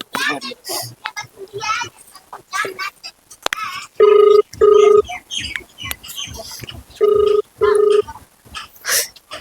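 A mobile phone call rings out with two paired bursts of steady electronic ringback tones, heard between stretches of people talking.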